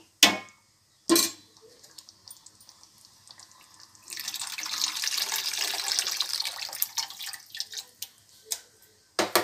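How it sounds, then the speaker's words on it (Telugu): Water pours into a pot of fish curry for a few seconds, a splashing rush between scattered clinks and knocks of cookware. "కొన్ని నీళ్ళు వేసుకుందాం."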